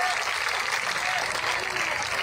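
Dense, steady clapping from a crowd at an outdoor village gathering welcomes an arriving politician, filling the short stretch as a continuous wash of applause without pauses.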